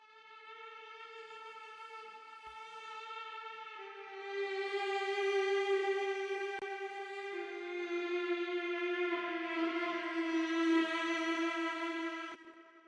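A sustained bowed cello tone with rich harmonics and processed effects, holding and shifting slightly in pitch, moderately loud with no talk.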